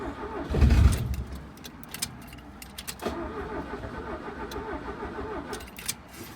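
A 1980 Fiat 124 engine cranks with a loud burst, then catches and runs unevenly at close range, with keys jangling and small rattles over the steady running.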